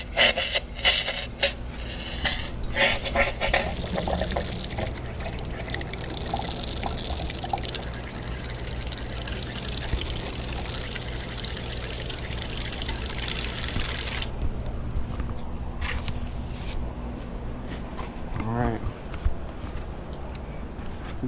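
Water drains slowly from an ice machine during a warranty replacement job, a continuous splashing, gurgling pour into a container with occasional knocks and clatter, steady and close, without speech.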